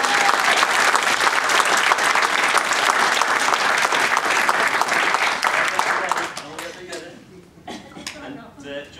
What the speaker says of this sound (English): I'd like to get a round of applause for Emma